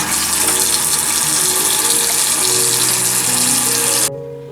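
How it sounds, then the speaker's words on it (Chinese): Cold tap water runs steadily and loudly over pork skin being rinsed in a kitchen sink, a continuous close splashing gush that stops abruptly near the end. "用冷水冲洗一下。"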